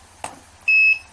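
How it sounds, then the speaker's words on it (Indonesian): A parking sensor buzzer on an ultrasonic distance-sensor model gives a single short, clear, high-pitched electronic beep after a faint click. "buzzer juga berbunyi cukup cepat dan rapat"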